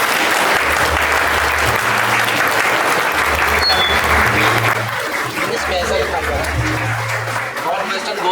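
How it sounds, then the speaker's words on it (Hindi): A church audience gives loud, sustained applause at a Lutheran parish founding event in Raipur, a dense wall of clapping with low background tones and a murmur of voices underneath. "चलिए जोरदार ताली हो।"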